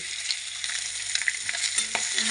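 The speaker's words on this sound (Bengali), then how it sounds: "মাছগুলো আমার ভাজা হয়ে গেছে" Pieces of rohu fish frying in a pan with little or no oil, giving a dense, continuous close sizzle with faint crackles and one brief clack near the end, with no voices.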